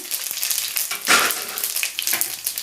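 Black mustard seeds and cumin sizzling in hot oil for a Tamil tender pumpkin kulambu, a steady close frying crackle with a brief louder burst of popping near the middle, no voices.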